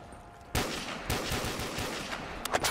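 Close, punchy gunfire from the Black Ops Zombies video game comes in a rapid string of shots, followed by a few sharper bursts near the end.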